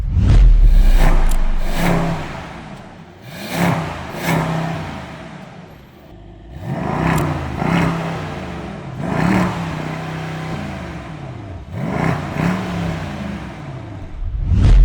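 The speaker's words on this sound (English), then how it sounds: "So we're going to start the car. I'm going to change it from balanced to powerful just to hear it at just sitting here. And then we're also going to rev it" A Mercedes S63 AMG with quad exhaust, set to its powerful mode, starts up loudly and then revs repeatedly in rising and falling surges while parked, close and with no voices.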